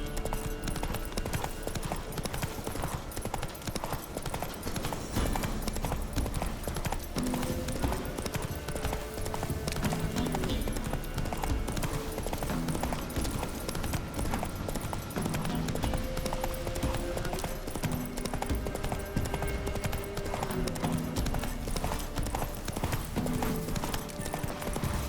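Roach, Geralt's horse in The Witcher 3: Wild Hunt on PS5, gallops with steady, continuous hoofbeats clip-clopping close up across the whole stretch, layered with dense ambient game sound and no clear talk.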